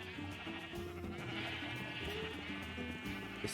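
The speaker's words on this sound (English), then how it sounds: "Even the sheep. Look how many sheep." Sheep bleat in Minecraft, several overlapping wavering calls repeating steadily over a low background hum, moderately quiet.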